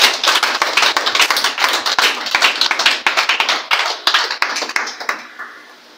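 A church congregation applauds during a sermon with loud, dense, rhythmic clapping from many hands, which carries on steadily for several seconds and then fades out near the end.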